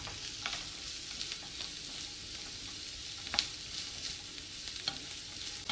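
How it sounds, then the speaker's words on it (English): Carrots and celery sautéing in a pan, a close, steady crackling sizzle with light scraping and a couple of sharper utensil taps, with no one talking. "we're going to toss in all of the carrots and the celery. And we're gonna saute it as well"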